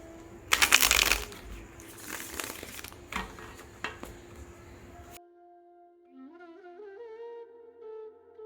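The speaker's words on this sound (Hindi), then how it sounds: "हम सबसे पहले आपके लिए कार्ड शफल करेंगे" Tarot cards shuffled by hand in a quick, crisp riffling burst for the first few seconds, followed by quieter scattered shuffling noises, then a soft tonal electronic sound fades in after the handling stops.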